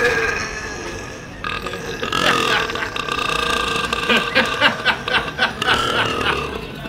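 A very loud, long human burp from a Guinness World Records holder for loudest burp, rumbling and resonant for several seconds before breaking into choppy pulses near the end, with a hint of laughter.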